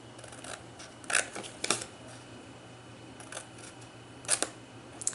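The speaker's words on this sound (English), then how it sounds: "Let's cut up each of those score lines." Scissors snip along the score lines of a paper treat box, several crisp cuts in short bursts over a quiet, steady room hum.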